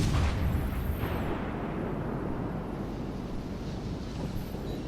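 A warship's main gun fires in World of Warships, a loud booming blast at the start that rolls off into a long, windy rumble fading over several seconds.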